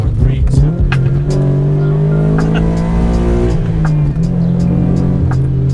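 A sports car's engine drones loudly from inside the cabin on a Southern California road, pitch climbing and dropping as it downshifts quickly through fourth, third and second gears.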